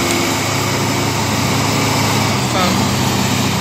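A tractor engine drones steadily as it arrives on a rough rural road, a continuous close motor hum that swells slightly near the end.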